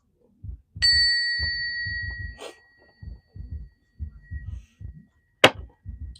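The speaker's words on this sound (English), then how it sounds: "Let's ring the bell to cleanse the space." A single bell rings clearly and rings on with a long, steady tone, heard between soft rhythmic tapping; a brighter chime strikes once near the end.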